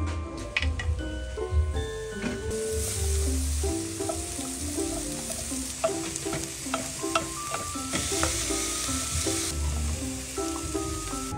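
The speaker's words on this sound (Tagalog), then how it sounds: "Kapag nag-aadobo ako ay nakasanayan ko na itong ginigisa sa luya, bawang at sibuyas." Pork adobo sautéing with ginger, garlic and onion: a steady pan sizzle runs throughout, with repeated scraping stirs and light clinks of a utensil against the pan at close range. No one speaks.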